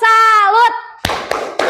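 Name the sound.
class doing the 'tepuk salut' clap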